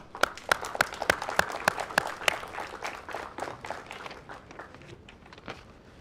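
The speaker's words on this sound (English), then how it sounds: "Please join me in applauding the hard work, dedication, and achievements of our 2022 graduating class" Applause from a graduation audience honoring the 2022 graduating class, a moderate round of clapping with several sharp, distinct claps standing out near the front before it thins and fades.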